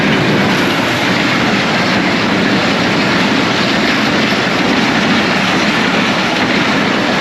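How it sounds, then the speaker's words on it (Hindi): Pakistan Express train passing close at high speed, a loud, sustained broadband roar and rush of wheels that stays constant throughout. "वो आ गई पाकिस्तान एक्सप्रेस। बहुत तेज स्पीड है।"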